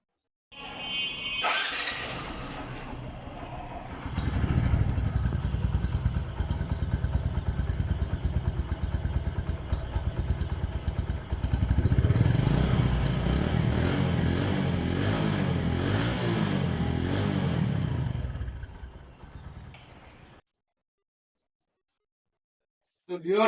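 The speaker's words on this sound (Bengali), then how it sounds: "আমি আপনাদেরকে বাইকটির সাউন্ড শোনালাম যে সাউন্ড কোয়ালিটি কেমন আছে" A Bajaj Platina 100cc motorcycle engine runs steadily at close range, rising in intensity partway through before cutting off near the end, with no one talking over it.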